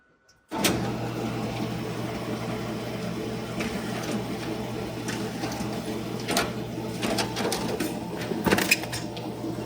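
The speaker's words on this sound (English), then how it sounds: "So instead of it folding in, it's Z folding" A Formax FD-6204 folding machine starts up and runs, Z-folding sheets of paper, with a steady mechanical hum and whir and quick rhythmic clicks and flaps of paper passing through, loud and close.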